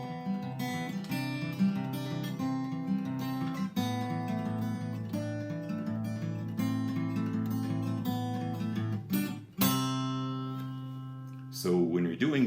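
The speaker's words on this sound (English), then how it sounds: "We're going to pluck the strings one at a time." An acoustic guitar is plucked string by string in a steady rolling pattern, close and clear, with a brief pause and a few scraping strums near the end.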